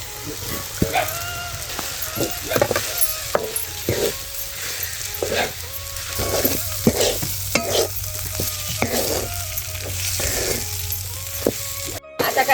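Soaked poha stir-fried in a pan for spicy tomato laddu gives a steady run of scraping stirring strokes over a continuous low sizzle, close and fairly loud, with no talking.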